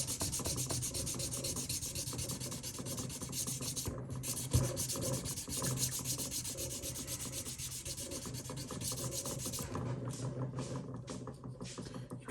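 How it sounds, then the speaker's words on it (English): Abrasive rubbing as frets are polished on a Japanese Stratocaster guitar during fret levelling, a dense continuous scrubbing rasp in quick back-and-forth strokes, close and steady, with a few brief pauses near the end. "You can see how it's gradually polishing the frets smoother and smoother."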